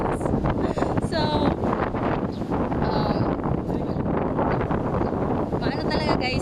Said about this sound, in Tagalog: we really have to bear with the wind because there's no better spot than this